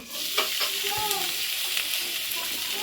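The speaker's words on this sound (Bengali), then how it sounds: "তো দেখো এখন এই যে বাঁধাকপি দিয়ে দিচ্ছি।" Cabbage fries in a wok and is stirred, with a constant loud sizzle broken by scraping stir strokes and faint background voices.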